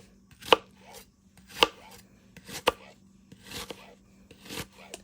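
Knife chopping onions on a cutting board for peach salsa, a handful of sharp, distinct thuds spaced irregularly about a second apart, close and clear with quieter knife scrapes between them.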